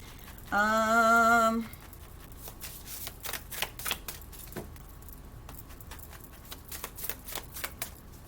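Tarot cards are riffle-shuffled in one loud, fast burst of about a second, followed by quieter scattered taps and flicks of the cards being handled, close and without talk.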